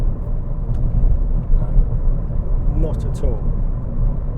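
A 2018-era Ford Fiesta ST mk7 cruising, with steady low engine and road rumble heard from inside the cabin while someone talks briefly over it.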